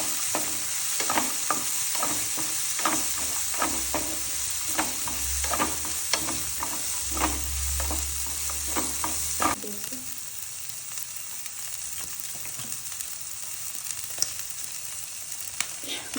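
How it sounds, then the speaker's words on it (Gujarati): Corn and vegetables sauté in a pan for vegetable soup: a steady sizzle runs throughout, with repeated spoon scrapes and stirring knocks for the first nine seconds, after which the sizzle continues more quietly. "આ બ્રાઉન થાય ત્યાં સુધી આપણે આને સાંતળવાનું છે."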